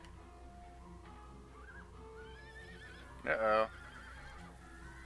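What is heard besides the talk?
horse neighing in the video game Dragon Quest VIII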